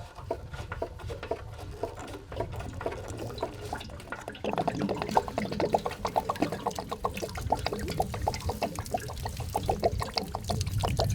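Water pouring and trickling out of a drain plug on a camper RV's water system during winterizing, a steady splashing flow that grows fuller and louder about halfway through, with no talking.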